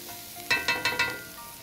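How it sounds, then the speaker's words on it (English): Onions frying in a pan for smothered pork chop gravy, a soft sizzle with four quick stirring scrapes in a row, close and fairly quiet. "So we're going to cook these onions until they're soft and clear."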